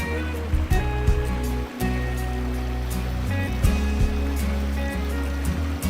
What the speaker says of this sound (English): the locals do their washing the old way, by the stream